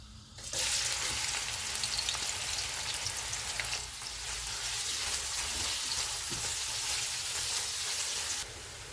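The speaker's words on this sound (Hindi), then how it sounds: "प्याज डालेंगे, इनको गोल्डन फ्राई करेंगे।" Onions frying in hot oil with whole spices for dahi chicken, a steady loud sizzle running almost the whole clip with faint stirring scrapes.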